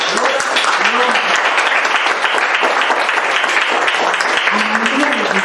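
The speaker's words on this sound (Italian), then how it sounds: "Vorrei molto, un applauso." Audience at a conference on Tibetan culture applauding, dense continuous clapping close and loud throughout, with faint voices mixed in.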